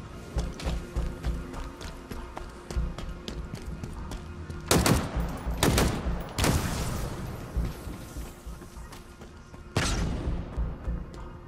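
Gunfire in the Halo Infinite campaign on Xbox Series X: scattered shots and several loud, sharp bursts ring out over a constant background of game sounds.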